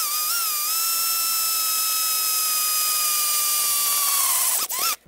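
A steady high-pitched power drill whine holds a constant tone for several seconds while drilling a bolt hole for a trailer tray, loud and close, then winds down and cuts off at the end.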